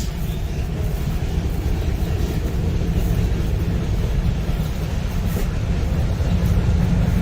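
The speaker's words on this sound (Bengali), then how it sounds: "ট্রেন যাচ্ছে দেখেন শীতের মধ্যে" A train passing through a village in winter fog, heard as a loud, continuous low rumble and roar that holds steady throughout.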